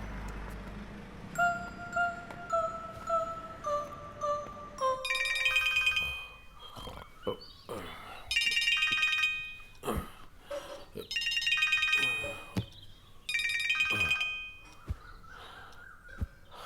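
A phone rings during an outgoing call, first with a descending electronic tone sequence and then with repeated bursts of bright, chirpy ringtone separated by short pauses, close and clear, with no talking.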